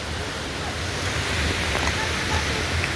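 Waterfall pouring at Three Falls in Santa Maria, Laguna, heard as a steady broadband roar of rushing water that holds at an even loudness throughout, with no voices over it.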